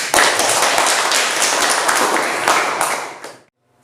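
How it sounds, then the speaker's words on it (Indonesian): Schoolchildren in a classroom clap their hands together in a brisk, loud burst of dense applause lasting a few seconds before stopping abruptly. "Beri tepuk tangannya"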